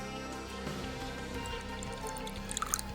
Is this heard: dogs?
no